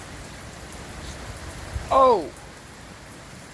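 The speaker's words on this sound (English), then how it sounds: "all it is just rain, dude. Lots of rain. And the rain's coming inside the garage." Heavy storm rain pours into a garage as a steady, even hiss that lasts throughout. A voice briefly exclaims partway through.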